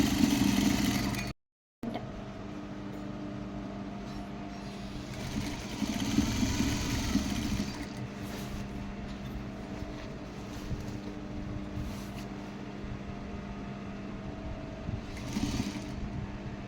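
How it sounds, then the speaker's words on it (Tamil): A sewing machine stitches a ready-made saree border, humming steadily at moderate loudness with a brief cut near the start and slight swells in the whirring. "கொஞ்சம் லாங்காக வச்சு ஸ்டிச் பண்ண ஆரம்பிச்சிடலாம்"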